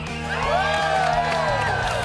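A large live audience at the Fox Nation Summit in Phoenix, Arizona cheers and whoops continuously, with rising voices riding over the steady crowd roar.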